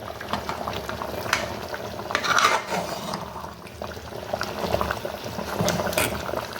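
Coconut drumstick gravy bubbling at a steady boil in a pot, a continuous close simmering burble with soft clinks of a utensil against the vessel and no voices.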